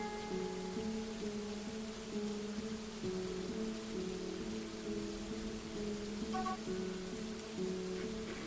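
Rain falls steadily in the video game Dwarf Fortress as a constant soft hiss, with a looping tonal game music melody playing over it and no voices.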